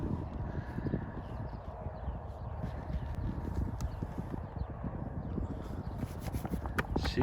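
A young horse being readied for its first ride walks with steady clip-clopping hooves, a continuous close rhythm of dull thuds over a rough outdoor background without talk.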